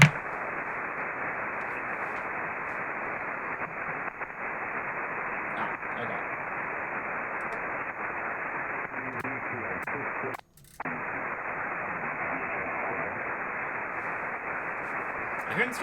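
Ham radio receiver hiss carrying a faint, barely audible voice transmission beneath steady band-limited static, continuous throughout with one brief dropout midway.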